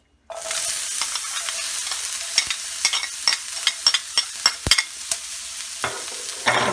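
Cooked chicken sizzles in about a teaspoon of oil in a pan, a bright steady frying hiss broken by repeated scraping stirs and knocks of the spatula, close and alone without talk.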